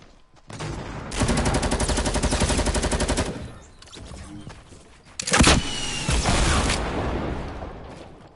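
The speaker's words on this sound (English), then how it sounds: "I'm gonna rocket launch this guy" Weapon fire in Fortnite, with a long sustained rattling burst of game gunfire, a pause, then a sharp loud blast followed by a rumbling tail, close and loud with no talk.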